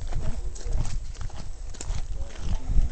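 Horse hooves clip-clop on a rural road between Cerro Iglesias and Las Lajas, a quick uneven beat that runs steadily under the noise of a busy outdoor scene, with voices faintly in the background.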